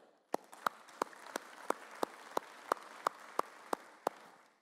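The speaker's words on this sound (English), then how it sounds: "just give yourselves an applause for what you have built here." Sparse, evenly spaced claps ring out in a quiet hall at an industry employer panel event, about a dozen sharp claps at a steady rhythm with no crowd roar.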